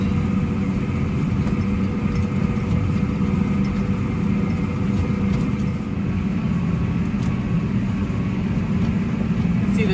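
A Challenger tracked tractor's engine drones steadily and evenly in an open field, a continuous low mechanical rumble with no talking over it.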